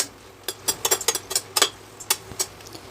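About fifteen dried red chillies roasting in sesame oil in a kadai, with a run of sharp clinks and taps from the utensil against the pan in irregular bursts over a quiet background.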